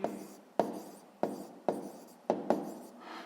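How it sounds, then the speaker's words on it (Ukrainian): Pen or chalk strokes of handwriting during a sixth-grade math lesson, sharp scratchy taps and short rubbing strokes repeating at an irregular rhythm, close and fairly quiet with no talking. "Записуємо в дужках чого кілограм"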